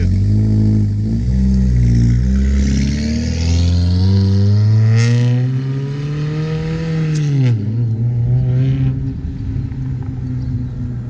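A sports car pulls away from a cars-and-coffee meet, its engine revving loud and close through rising and falling gear sweeps, then fading as it drives off.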